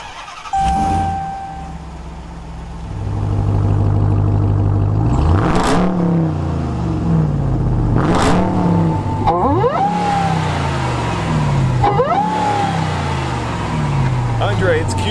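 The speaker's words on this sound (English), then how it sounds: "you should just listen to this engine." A supercharged 470-horsepower car engine revs again and again, each rise climbing sharply to a high whine before dropping back, loud and close, with a voice speaking between the revs.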